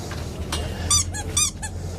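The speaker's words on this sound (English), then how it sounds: "We got squeakers and crinkles. Everything's got a squeak to it" A squeaky dog toy squeals several times in quick succession, high and wheezy, with a few softer squeaks before the loudest ones.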